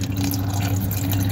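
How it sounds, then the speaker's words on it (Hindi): Water poured into a cooking pot while making Pakistani aloo chana chaat, a steady close splashing and trickling fill with no talk over it. "इसमें हम पानी डालेंगे"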